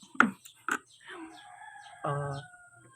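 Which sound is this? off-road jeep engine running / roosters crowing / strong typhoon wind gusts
roosters crowing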